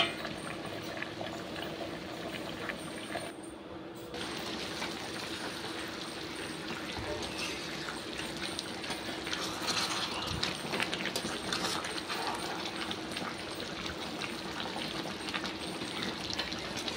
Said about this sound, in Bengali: আস্তে আস্তে চাপা দিয়ে দিয়ে বেশ কিছুক্ষণ আমি মাংসটা ভালো করে কষে নেব।